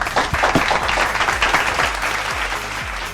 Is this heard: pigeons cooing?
no